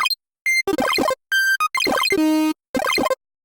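Synthesizer patch with an LFO mapped to the rate, producing bursts of harmonic tones and choppy, stuttering textures separated by short silences, some tones held steady and others rapidly modulated.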